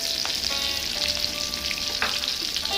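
Chopped onions fry in a wok for potato and egg bhujia, a loud, close, steady sizzle with a few brief tonal scrapes on top.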